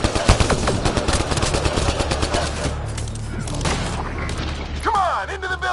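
Rapid automatic gunfire rattles in dense bursts during a firefight in the video game Mass Effect Andromeda, loud and close, with a voice speaking over it and a sweeping electronic tone near the end.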